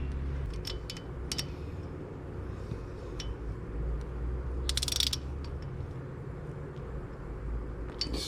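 A ratchet tightens a part on a Royal Enfield Scram 411 motorcycle during a performance cam install, with scattered close metallic clicks and clinks, including a quick burst of ratcheting in the middle, over a low background rumble.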